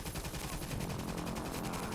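Rapid gunfire from the video game Toy Soldiers: Cold War, a steady stream of shots with a tank firing, fairly faint and continuous across a short stretch.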